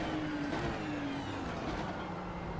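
A race car in the iRacing video game drones past with a steady engine tone that dips slightly in pitch, heard at moderate volume over continuous road and wind noise.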